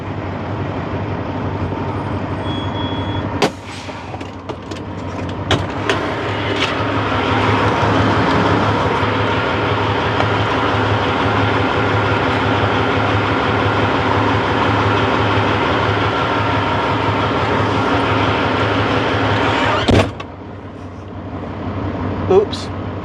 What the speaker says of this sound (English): And as you can plainly see, trains going along that route fairly quickly.